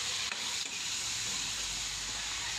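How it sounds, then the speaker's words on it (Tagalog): Pork liver and pork cubes fry briefly in a pan, giving a steady bright sizzle with soft stirring scrapes over about two and a half seconds, no voices. "Prituhin natin saglit guys para hindi lang siya malusba."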